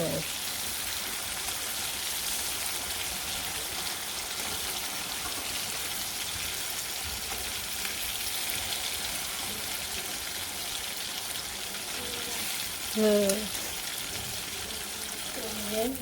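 Fritters of ground mustard paste frying in hot oil in a village kitchen, making a steady, dense sizzle that runs unbroken throughout, with a brief faint voice near the end.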